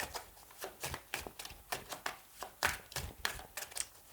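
Tarot cards are handled and shuffled by hand, giving quiet, close, rapid and irregular papery slaps and riffles with no talking.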